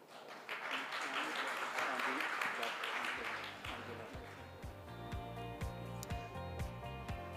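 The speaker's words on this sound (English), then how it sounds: "We can applaud them" Scattered applause from a conference audience at an anniversary event for a science collaboration programme, swelling briefly then fading as music with a steady beat takes over.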